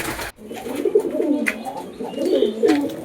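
Lotan pigeons with heavily feathered feet cooing close by, a soft rolling series of low coos over a quiet background, with a few faint sharper sounds.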